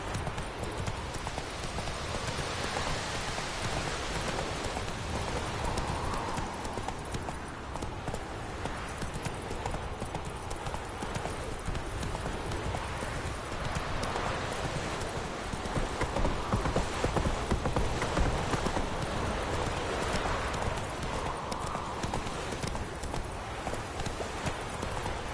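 Roach, Geralt's horse in The Witcher 3, gallops in a dense, unbroken drum of hoofbeats for the whole stretch, loud and close, with a faint voice now and then underneath.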